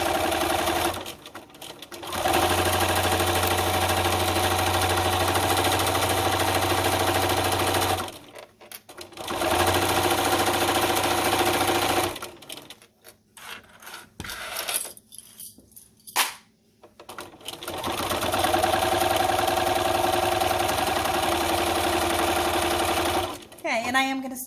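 A sewing machine stitches vinyl bag straps in long steady runs of rapid mechanical whirring, stopping and restarting several times with brief pauses and softer handling noises between runs.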